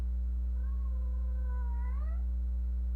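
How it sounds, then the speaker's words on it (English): A cat lets out a drawn-out, wavering yowl lasting over a second, rising at the end, heard fairly close over a strong, steady electrical hum, with no one talking. "Cat has a lot to say."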